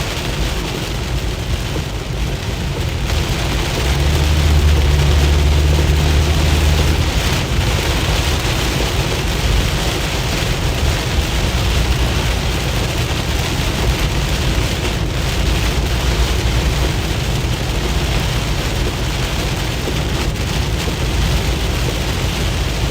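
Heavy rain pouring down during a Midwest storm, a loud, dense, unbroken hiss with a brief low rumble near the start, and no talking.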